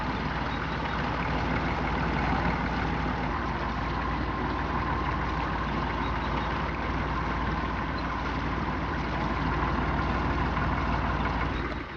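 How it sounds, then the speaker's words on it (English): A diesel engine drives a working canal narrowboat towing an unpowered butty boat, heard in an old 1963 recording as a steady, continuous low rumbling drone with no talk. "the leader propelled by a diesel engine, towing its unpowered butty boat behind"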